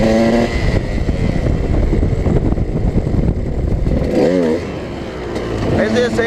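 A KTM supermoto motorcycle engine roars loudly and steadily under heavy throttle, with a sharp rising and falling rev near the end and rough, wind-buffeted engine noise throughout.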